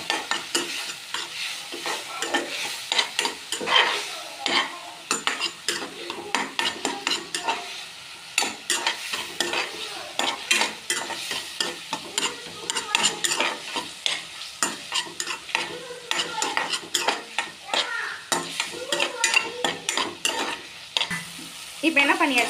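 Tomatoes soften in a pan over low heat, a soft continuous sizzle broken by frequent scraping and clinking of a spoon stirring against the metal, close and fairly quiet throughout.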